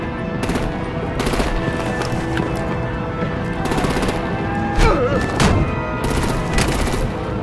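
Bursts of automatic gunfire and scattered shots in the Batman: The Enemy Within video game, repeated volleys that stay loud and steady over a busy battle background.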